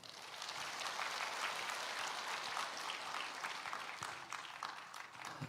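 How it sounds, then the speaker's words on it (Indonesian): Audience applause at a welcoming ceremony for a Buddhist event in Indonesia, a steady dense clapping from a crowd lasting throughout and fading slightly toward the end, with no talk over it. "Tepuk tangan."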